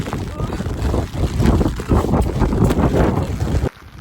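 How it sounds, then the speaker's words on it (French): Strong wind in Connemara buffets a microphone, walking into a headwind, in heavy, continuous roaring gusts that cut off abruptly near the end. "je marche à contre-vent, c'est une mauvaise idée"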